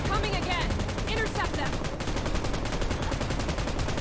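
Rapid automatic gunfire in the PUBG Mobile video game, a dense, loud stream of shots rattling continuously with no pause.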